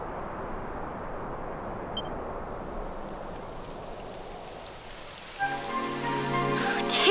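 Steady rain patters and hisses across a mountain path in Dragon Quest XI S, a dense wash of drops throughout, with a soft musical backing fading in over the last couple of seconds.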